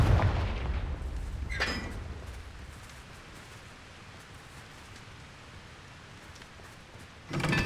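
A Confringo blasting spell going off in Hogwarts Legacy: a loud burst at the start, a sharp crack soon after, a long stretch of low rumbling noise, then another heavy blast near the end.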